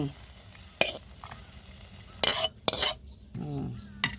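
Stir-fried cabbage with fish sauce is scooped from a pan onto a plate. A faint sizzle sits under several sharp metallic scrapes and clanks of the utensil against the pan, close up and intermittent, with no one speaking.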